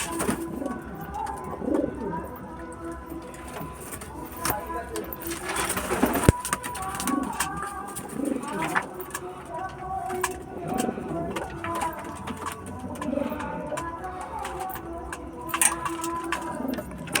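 Pigeons coo softly at a water dish set out for them, with repeated low throaty coos and scattered clicks and shuffles, close by and without talk.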